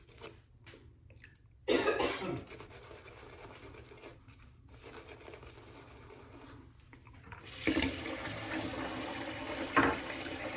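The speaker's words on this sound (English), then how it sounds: "I'm going to turn that water on and get some more hot water in the sink." Hot water runs from a tap into a sink, starting with a sudden gush and then a steady hiss of flowing water, with a cough and scattered handling noises before it.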